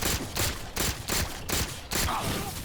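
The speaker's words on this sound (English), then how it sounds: "So here's the plasma pistol." Halo 4 plasma pistol firing in the video game, a rapid series of six or seven evenly spaced energy bursts, loud and close, with no talk over them.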